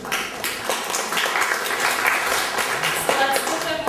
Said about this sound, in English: let's give them a warm round of applause